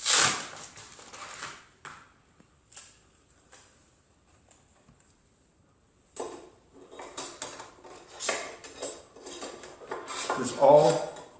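Thin metal plates of a flat Vargo camping stove clink and scrape as they slot together, with intermittent close metallic taps and rattles, a quiet pause, then busier clattering.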